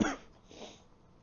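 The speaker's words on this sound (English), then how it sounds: "sorry for the coughs." A single cough bursts out at the start, loud and close, then trails into quieter breathy rasps and room noise by an open window.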